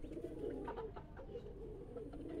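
Soft, low pigeon cooing at a pigeon loft just after a racing bird lands, faint and murmuring under steady background noise.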